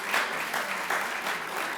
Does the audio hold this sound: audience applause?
yes